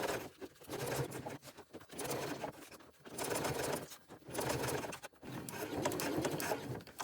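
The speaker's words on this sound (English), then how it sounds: "do about 2 stitches at a time before I pivot my presser foot" A sewing machine topstitching a quilted pouch runs in short bursts of rapid mechanical stitching separated by brief pauses for pivoting, close and fairly quiet with no talk.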